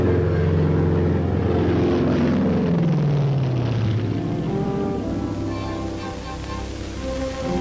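Propeller-driven military transports, C-54s and C-119 Flying Boxcars carrying paratroopers during the Korean War, drone with a loud, steady piston-engine roar whose pitch slides downward as they pass, then fade slightly.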